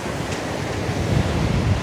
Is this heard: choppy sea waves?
yes